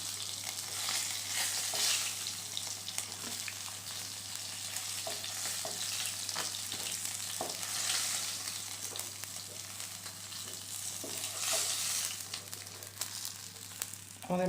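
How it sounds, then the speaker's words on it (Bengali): Katla fish pieces fry in oil, a steady soft sizzle with occasional crackles and the light scrape of lifting them out, moderately quiet and without talk, under a low constant hum. "আমাদের মাছগুলো ভাজা হয়ে গেছে, আমরা তুলে নিচ্ছি"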